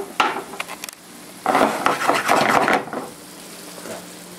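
Browned ground beef for slow-cooked chili scraped and dumped into a crock pot, with a brief clatter followed by a second, longer wet tumbling scrape.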